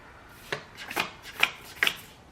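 Oracle cards being shuffled by hand, a few brisk papery riffles and slaps in quick succession, close up with no voices.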